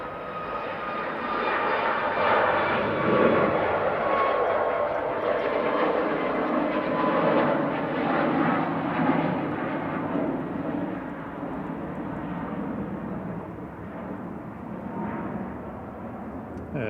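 A Boeing 737 MAX 8 jet departs Manchester Airport for Tenerife with a loud, sustained engine roar that swells early and slowly fades as it moves away.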